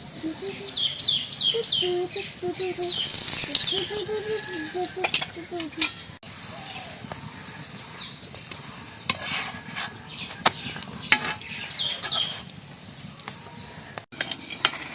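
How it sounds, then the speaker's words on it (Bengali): Aloo paratha frying in oil on a hot tawa, a soft steady sizzle with stirring and scraping sounds, while birds chirp intermittently in the background. "পরোটাগুলো প্রথমে কিন্তু শুকনো তাওয়াতেই ছেঁকে নিতে হবে এপিট ওপিট করে এবারে এক চামচ তেল দেব"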